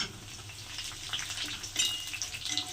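Chopped green chillies and browned onions fry in a pan for chicken liver, giving a steady, fairly quiet sizzle with faint stirring and no voices.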